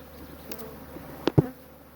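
Honeybees hum softly around an opened hive being handled and cleaned out, a faint steady buzz broken by a couple of sharp, close knocks near the end.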